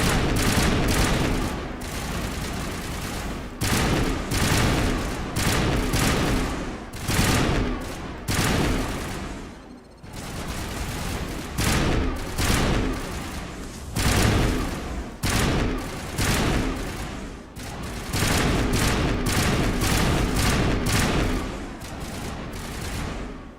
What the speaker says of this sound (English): Manova is under coordinated crossfire.